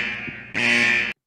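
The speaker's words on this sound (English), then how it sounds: "Uh-oh, the alarms are sounding off." A spacecraft alarm sounds, a harsh, steady electronic buzzing tone that jumps louder about halfway through and then cuts off abruptly.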